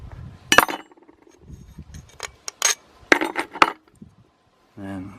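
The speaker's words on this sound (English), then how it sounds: "Take the bolts out." Bolts come out of a DC motor under repair with scattered metallic clinks and taps, close by and irregular, separated by quiet handling noise and ending in a brief tonal hum.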